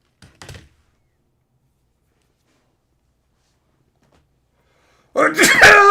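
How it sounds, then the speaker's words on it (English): One sudden, loud, close sneeze bursts out near the end after long near-silence, with only a faint brief rustle at the start. "I could feel that sneeze just fucking blossoming in me."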